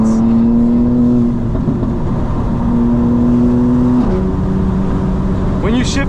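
A tuned 900hp 2025 BMW M4 Competition xDrive drones loudly from inside the cabin at steady speed, its engine pitch stepping down sharply with a gear shift, then a short rising burst near the end.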